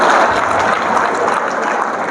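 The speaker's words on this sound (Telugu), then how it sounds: "ఇప్పుడు నవ్వుతూ చప్పట్లు కొట్టండి చూద్దాం." An audience at a students' motivation class clapping together while laughing, a dense wash of applause that is loud at first and eases slightly over two seconds.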